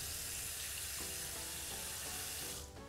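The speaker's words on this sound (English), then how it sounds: "Put the conditioner on in our treatment, leave it on 10 minutes or more, and rinse out gently." Water running steadily from a tap while hair treatment and conditioner are rinsed out: a continuous, close, full splashing rush with a slight change in the flow near the end.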